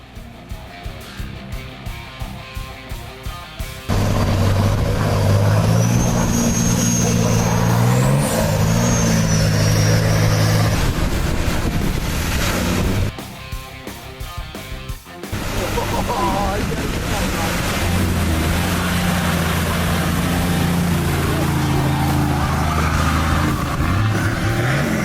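4WD vehicles on Moreton Island pushing through a water crossing, one towed on a snatch strap, with loud sustained engine drone and rushing water, a brief drop in the middle, then the roar resumes.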